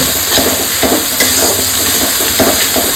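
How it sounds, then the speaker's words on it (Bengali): Onion frying with chopped garlic and ginger, stirred in a pan for a Bengali egg curry: a steady sizzle with soft rhythmic scraping strokes repeating every half second or so, close and moderately loud, no voices. "পেঁয়াজটা একটু ভাজা ভাজা করে নেবো। দেবো একটু রসুন কুচি, একটু আদা দিয়ে ভালো করে এটাকে কষাবো।"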